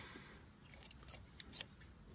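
Freshly sharpened scissors snip several times in quick succession, producing crisp, faint metallic cuts close by, with no one talking.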